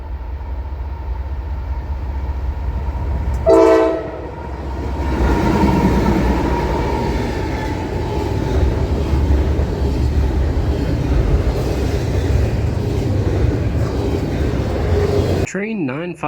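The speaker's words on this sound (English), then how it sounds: "First, an eastbound intermodal comes by." Eastbound intermodal freight train passing on a rail line, a loud continuous rumble and rolling wheel noise with a brief sharp horn-like burst early on, ending abruptly.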